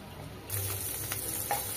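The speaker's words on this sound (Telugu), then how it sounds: "ఇట్లా ఫస్ట్ పన్నీర్ ఫ్రై చేసుకోవాలి." Paneer frying in a pan, with a steady close sizzle that grows louder partway through and a couple of faint clicks, with no talk.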